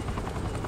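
A helicopter in the Saints Row video game drones steadily with a dense, even rotor roar that fills the whole short moment, loud and continuous with no voices over it.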